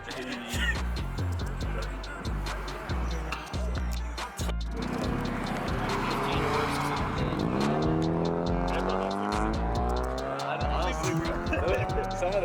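A loud, high-revving car engine climbs through the gears under hard acceleration, with a rising whine and tire noise. It happens at a crowded street car event in Mexico, and voices are heard faintly.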